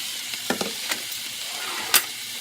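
Vegetables sizzle alongside meat in a pan with a quiet, steady frying hiss and a few soft scraping and clinking stirs of a spoon.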